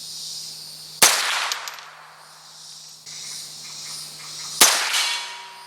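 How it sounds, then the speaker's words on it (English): Two sharp .22LR rifle shots from a Winchester Wildcat fired at bench rest targets 50 yards out, each a sudden loud crack with a short ringing tail, spaced a few seconds apart. "I'm going to shoot these 5 targets here, these bench rest targets."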